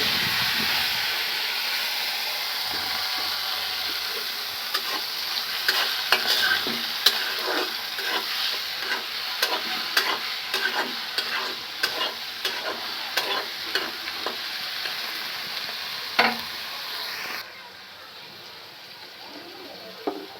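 Oil heating and frying in a pan for a prawn dish, a steady close sizzle broken by repeated clicking stirs and scrapes, then quieting near the end.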